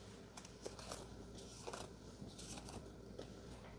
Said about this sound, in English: We're going to shuffle our map cards deck and deal 2 to each player.